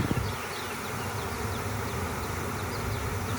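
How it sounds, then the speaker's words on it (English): A dense, continuous buzz of many honeybees fills the air while a bee package is being hived, steady and close throughout. "My dad is leaving, there's too many bees."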